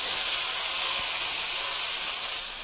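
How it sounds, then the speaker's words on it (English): Water boils in a pot on a stove, ready for noodles, giving a steady, close hiss of steam that holds evenly throughout with no talking. "I already got my water in the back boiling"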